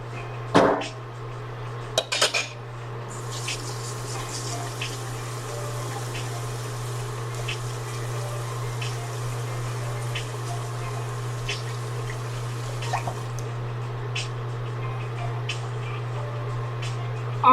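Tap water runs steadily for hands being washed in a home kitchen, with a low constant hum beneath and a few sharp clatters of dishes near the start.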